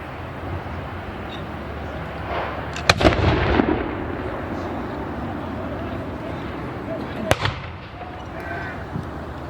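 A swivel gun fires twice at a French and Indian War reenactment at Fort Ligonier, each blast a sharp, loud boom with a rumbling tail, the shots roughly four seconds apart over outdoor crowd murmur.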